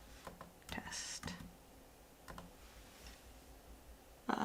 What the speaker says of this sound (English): I was typing in the word test